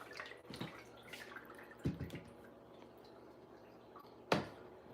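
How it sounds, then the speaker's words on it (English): Water draining from a drinking vessel or sink, faint gurgles and sparse drips punctuated by a few sharp clinks and knocks, quiet and close with no talking. "Let my water drain."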